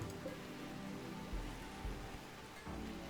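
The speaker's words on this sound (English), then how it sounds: "It's nice rain." Soft rain in the video game Rimworld, a faint steady patter with a few low thumps, quiet and continuous with no talking.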